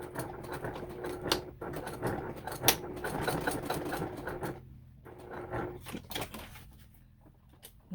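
A sewing machine stitches with a back stitch, a quiet, close, rapid mechanical patter in bursts that stops and restarts, with short pauses and a few clicks near the end.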